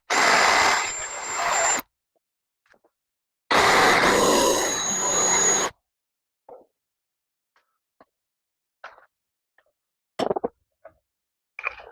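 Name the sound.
drilling with a 1/2 inch bit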